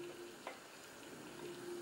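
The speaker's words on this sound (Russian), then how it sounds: "Нужно жарить до тех пор, пока вот тесто не станет таким золотистым-золотистым." Batter-coated sausages fry in a pan, making a faint, steady sizzle and crackle with no talk over it.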